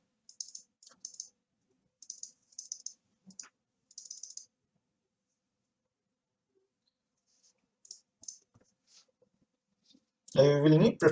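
Typing code on a computer keyboard comes in short clustered bursts of light clicks, separated by quiet pauses, during a coding contest, and a voice begins speaking at the very end.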